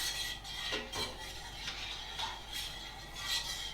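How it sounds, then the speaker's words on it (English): A spoon stirs milk heating in a pan for homemade set yoghurt, giving soft, quiet scrapes and faint clinks against the metal at an irregular pace, with no talking. "So just keep on stirring"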